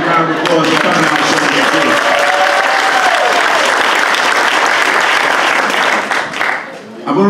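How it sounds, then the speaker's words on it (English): Loud, dense audience applause at a chamber of commerce community service awards event, continuous clapping with a few whistles and cheers that tapers off near the end, with a voice briefly heard at the start. "let's give them a big round of applause for coming out."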